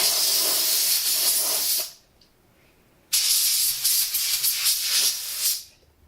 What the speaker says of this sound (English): I'm just gonna blow them off, blow it off here with this can of air